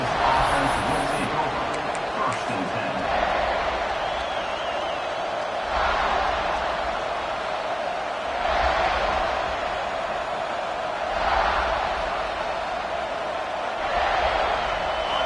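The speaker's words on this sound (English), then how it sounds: "This crowd ready to make its presence known." Stadium crowd at an American football game, a loud steady roar of many voices with swelling surges, heard under a broadcaster's voice.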